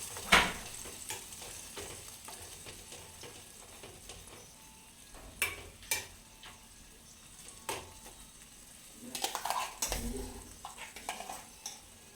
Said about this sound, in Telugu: ఇప్పుడు ఇందులోకి మనం ఈ టమాటా పచ్చడిని వేసుకుందాం